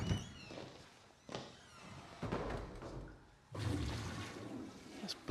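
Toilets flushing in a Harry Potter film scene set at the Ministry of Magic, with several loud rushing water surges, each starting abruptly and lasting about a second or more, close and alone without talk.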